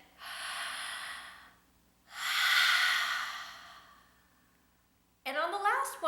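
Ujjayi pranayama yoga breathing: two long, audible throat-constricted breaths, an inhale and then a fuller exhale, close and soft with a hissing, ocean-like texture, followed by a brief voice at the end.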